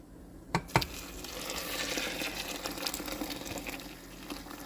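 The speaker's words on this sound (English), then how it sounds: "So I'm going to pour the kettle of water in to the beans." Water poured from a kettle into beans in a crock pot makes a continuous splashing, gurgling stream after a couple of sharp knocks, filling the space close up for several seconds.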